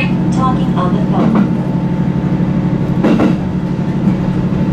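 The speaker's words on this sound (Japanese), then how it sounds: "This is the 仙石東北 line rapid service train bound for 石巻。" A steady low rumble fills the interior of a Senseki-Tohoku Line rapid service train in Japan while it runs, with a few faint rattles over it.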